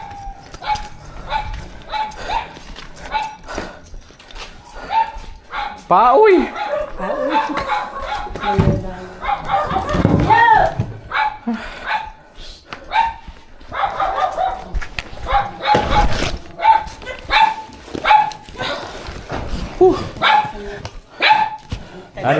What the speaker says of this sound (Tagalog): Galit na galit kay Arnel yung aso.